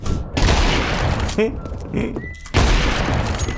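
Gunfire from a powerful weapon in a multiplayer shooter game, loud bursts of shots filling the start and end with a quieter gap in the middle, while someone talks over the action.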